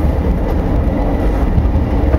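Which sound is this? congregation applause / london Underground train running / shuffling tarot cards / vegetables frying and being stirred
london Underground train running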